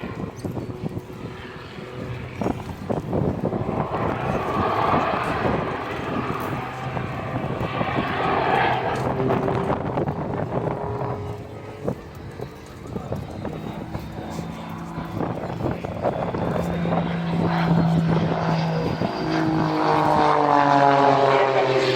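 Rich Goodwin's piston aircraft fitted with jet engines performs at an airshow at IWM Duxford, its propeller drone and jet whine rising and falling as it passes, fairly loud throughout and building again toward the end.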